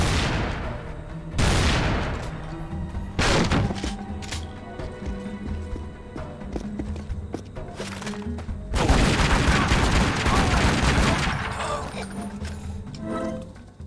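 Rapid gunfire in the video game Tomb Raider Legend, loud bursts of shots and booming impacts repeating over several seconds, with someone talking over the action.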